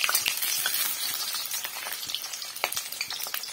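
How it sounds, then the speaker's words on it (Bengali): Potato pieces, one potato cut into four, fry in a pan with a loud, dense, continuous sizzle and crackle, close up and with no voices over it. "দেখো এখানে আমি আলু ভাজছি"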